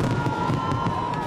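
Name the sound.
fireworks display over Sydney Harbour with crowd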